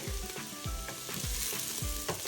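Onions fry in a pot for a beef and spinach curry, crackling with a dense, steady sizzle broken by a few soft, regular thumps from stirring, close and with no speech.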